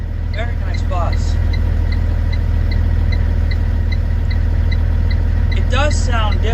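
A steady low engine drone from a Blue-Bird GMC CV200 school bus in the Rigs of Rods game holds throughout. Short tonal chirps and other game sounds come in above it, and there is no talk.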